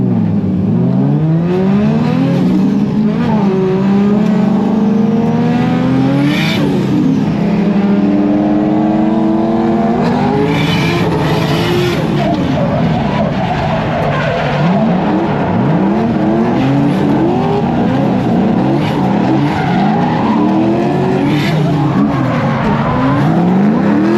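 A street car drifts laps on a race track, its engine revving hard and rising and falling through gear changes while the tires squeal continuously, loud and close throughout with no talking.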